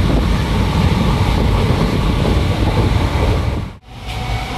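Lalgola local train to Naihati running, a loud, steady rumbling roar with wind buffeting the microphone, continuous for several seconds before a brief sharp dip near the end.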